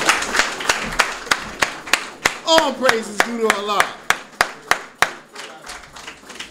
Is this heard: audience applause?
yes